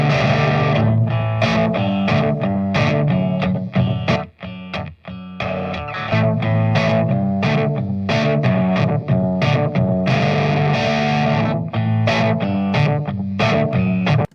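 Distorted rhythm guitars open up into a fuller, loud sustained wall of dense chords, strummed steadily with brief rhythmic breaks around the middle, with no voices.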